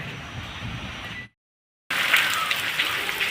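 Steady rain patters and hisses, cut by a brief total silence before the downpour resumes just as strong.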